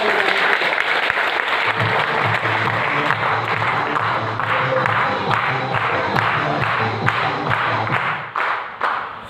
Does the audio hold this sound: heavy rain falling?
no